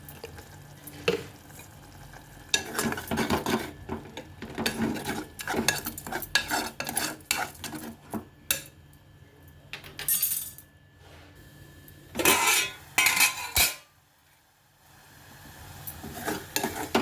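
Bottle gourd masala fries in oil while a spoon stirs and scrapes steadily against a metal pan, with clinks and a low sizzle underneath, close and moderately loud.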